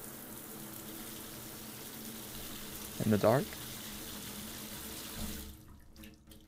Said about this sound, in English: In the shower, I go.